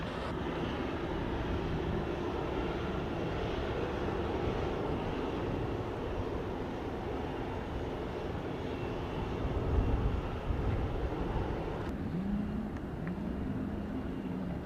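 A Norse Airlines airliner at Montego Bay airport in Jamaica, a steady distant jet engine roar that holds level for about fifteen seconds, with a faint rise near the end and some wind on the microphone.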